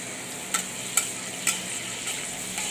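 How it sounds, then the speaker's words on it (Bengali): Chopped onion frying in a little oil in a pan, a steady sizzling hiss broken by a few sharp stirring scrapes at roughly half-second intervals. "দিয়ে দিচ্ছি একটা পেঁয়াজ কুচি, একটু এটা ভেজে নেব।"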